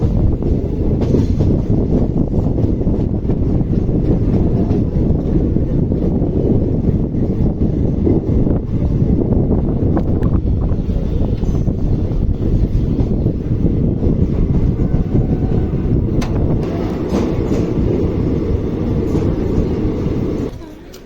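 Loud, continuous low rumble of the Rajya Rani Superfast train from Mysuru to Bengaluru arriving at Kengeri railway station, with wind buffeting the microphone, easing off slightly at the very end.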